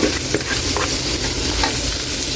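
Pork innards, including intestines, are stirred in a hot pan for Visayan-style dinuguan. A loud, steady sizzle and frying hiss fills the sound, with scraping stir strokes on top and no talking.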